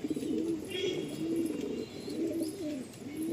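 A homebred baby pigeon in a loft coos in low repeated throaty phrases, fairly close, over a steady hum of background noise.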